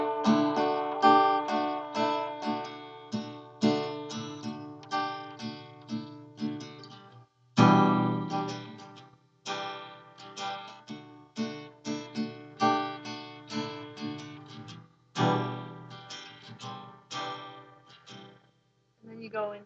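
Acoustic guitar playing the chord-based intro of a song, steady strummed and picked chords close and alone, with a brief pause partway and a fresh phrase starting near the end.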